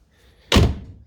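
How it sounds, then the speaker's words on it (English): The door of a Mazda Capella RX2 car, with a freshly replaced handle clip, shutting in one solid close thunk with a brief rattle that fades quickly. "the door opens pretty bloody good too"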